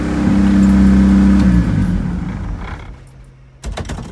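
A turbocharged Honda CRX engine idles high while warming up on its first start, a loud steady drone with a tonal hum that fades and drops away, then some clicks and knocks follow.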